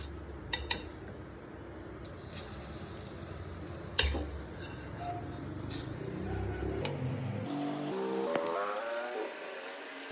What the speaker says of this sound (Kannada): ಇವಾಗ ಇದರಲ್ಲಿ ಒಂದೊಂದಾಗಿ ಹಾಕಿ ನಾವು ಫ್ರೈ ಮಾಡ್ಕೊಳ್ಳೋಣ